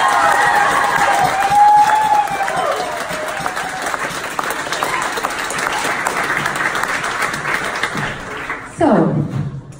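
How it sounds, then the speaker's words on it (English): A university audience applauds for the DUSA students' association team, broad sustained clapping filling the hall with cheering mixed in, then tapering before a brief closing burst of louder claps. "can I have a round of applause, a proper applause, for the whole team of DUSA that has done this amazing thing"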